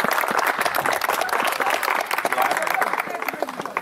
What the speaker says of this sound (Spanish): Voto de aplauso.